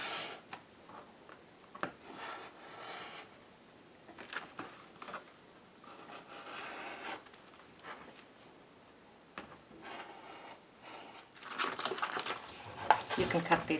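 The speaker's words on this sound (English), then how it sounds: "I am going to cut the strips across" Scissors cut watercolor paper into strips with soft, intermittent snips and paper rustles, faint and close, separated by quiet pauses and rising to a louder burst of crinkling near the end.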